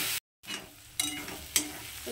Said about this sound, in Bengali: এখন টমেটোর সঙ্গে এটাকে খুব ভালো করে কষিয়ে নেবো।